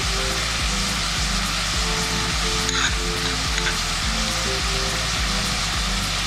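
Onion with crushed ginger, garlic and curry leaves sautéing in a pan for a banana-leaf chicken curry, a steady close sizzle and crackle running throughout with faint stirring scrapes.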